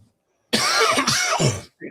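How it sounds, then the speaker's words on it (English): A loud, harsh cough bursts out up close, two or three rough hacks in quick succession, followed by a brief faint noise. "I got a cough"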